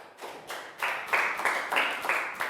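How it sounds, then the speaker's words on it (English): A Year 3 math class claps for a classmate: a handful of close claps in a steady, evenly spaced rhythm, roughly three per second, repeating for about two seconds. "Big high five and round of applause for Prau."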